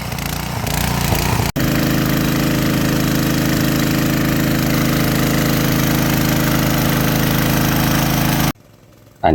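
A water pump engine drones steadily while draining a fish pond. Its loud, even mechanical rumble is broken by a brief dropout early on and cuts to near quiet close to the end.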